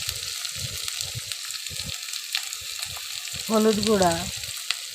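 Onion, chili, garlic and cumin paste with salt and ground spices stir-fry in a pan for a Bengali potato-eggplant chorchori with small fish, giving a steady close sizzle that rises briefly louder near the end, heard under a speaking voice.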